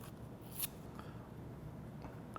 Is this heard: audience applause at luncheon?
no